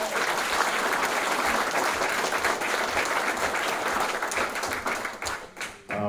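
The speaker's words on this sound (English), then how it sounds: "So let's hear a big round of applause for all of you." A crowd at a Rotary Club Citizen of the Year event applauds loudly and steadily with dense clapping throughout, tapering off slightly toward the end.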